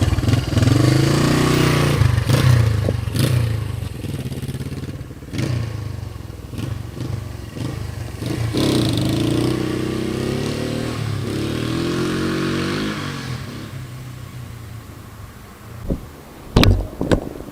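A Honda SL350 motorcycle engine rumbles loudly while the bike is ridden up a hill, throttle rising and falling with steady revving, then a few sharp knocks near the end.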